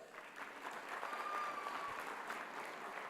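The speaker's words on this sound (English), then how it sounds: "let's give them a round of applause" Applause from an audience at a mayoral candidates forum, welcoming community members from local organizations; steady, dense clapping fills the room at moderate volume, with a faint tone running through the middle.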